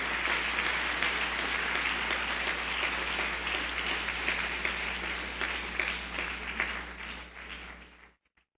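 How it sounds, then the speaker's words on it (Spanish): A church congregation applauds at an IPUC service with dense, sustained clapping that stays full and even for several seconds. The applause then tapers off quickly into silence. "Yo pido un aplauso para este grupo, hermanos"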